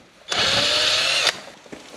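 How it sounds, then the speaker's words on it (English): A power drill with a 1/4 inch bit drilling out an old hole for an air bleeder nub replacement, one steady high-pitched whirring burst of about a second, close and loud, then quiet. "drill out the old hole so that we can glue the new one in. I'm going to use a 1/4 inch drill bit."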